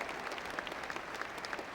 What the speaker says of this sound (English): He'll get a much-deserved standing ovation from the entire crowd.